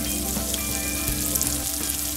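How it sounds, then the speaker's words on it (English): Onion fries in a pan for a Bengali-style spicy fish curry, giving a continuous, even sizzle throughout, close and fairly loud, with no voices. "So wait for 2 to 3 minutes to fry the onion"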